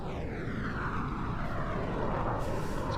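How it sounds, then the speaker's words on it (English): Eurojet EJ200-powered military jets roaring overhead at an air tattoo, a loud continuous engine rumble with a sweeping pitch shift as they pass, no voices. "it's quite the treat to be having 4 Eurojet EJ200 engines in the air at one time"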